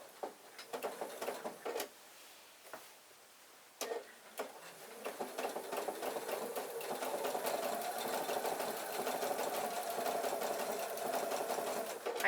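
A sewing machine stitches applique fabric on a quilt block, first in short starts and stops with clicks between them, then settling into a continuous steady whirring run that grows louder and holds.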